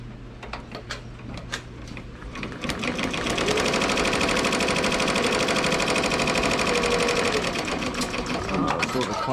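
An embroidery machine starts up after a few scattered clicks and then stitches in a fast, loud, steady mechanical rattle that runs to the end.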